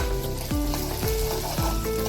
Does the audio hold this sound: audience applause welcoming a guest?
no